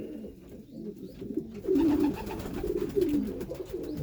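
Racing pigeons inside a loft give low throaty coos, several overlapping rolling calls close by, growing louder midway and continuing alongside shuffling movement.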